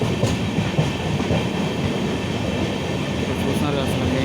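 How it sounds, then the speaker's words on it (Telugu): A passing train bound from Vijayawada to Haridwar rumbles steadily close by, its dense broadband roar holding level throughout, with faint clicking from the wheels and a little background voice. "సో పక్క ట్రైన్ వచ్చేసి విజయవాడ నుంచి హరిద్వార్ వెళ్తుంది"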